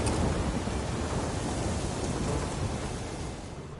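A Witcher 3 storm fills the scene with steady, dense rain and low rumbling thunder, loud and continuous, slowly easing toward the end, with no voices.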